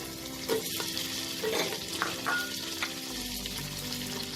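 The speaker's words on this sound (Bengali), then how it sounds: "আর এটাকে আমি হালকা 1 মিনিট একটু নাড়াচাড়া করে নেব।" Onion and cauliflower stir-fried in a wok give a soft, close sizzle broken by scraping and clinking stirs, quiet and with no talk.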